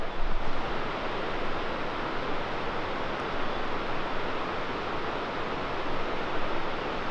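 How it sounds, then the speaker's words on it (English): A mountain waterfall across a canyon in Utah, swollen by winter moisture, gives a constant broad roar of falling water that never lets up, with no voices. "I had to stop right here because there's the coolest waterfall across this canyon"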